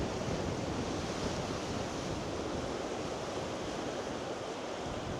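Waves washing over rocks on the Portrush shore on a calm day, an unbroken hissing rush of surf mixed with wind noise, fairly loud and even throughout.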